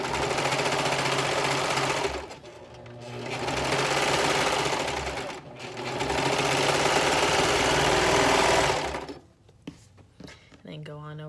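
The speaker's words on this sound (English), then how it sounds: "you're just going to sew again from the top right down to the bottom side of each cuff" A sewing machine stitches the cuffs of a romper in three bursts of rapid mechanical chatter with short pauses between, close and loud, then stops.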